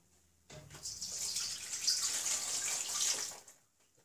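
Cold water running from a tap into a bowl for peppermint steam distillation, a steady splashing stream starting abruptly and stopping after about three seconds, fairly close and moderately loud.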